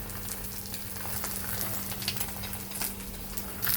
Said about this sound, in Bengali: প্রথমে ঘি দিয়ে দিছি, এই যে ডিম দুটো দিয়ে দিলাম।